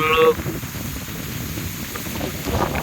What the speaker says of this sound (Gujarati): પવન એટલે બહુ જ એટલે બહુ જ પવન વધી ગયો છે